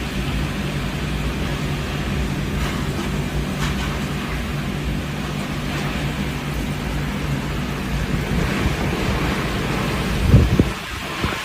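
Heavy rain pours steadily onto the ground in a dense, constant roar, with a low rumble swelling briefly near the end, loud and close with no voices.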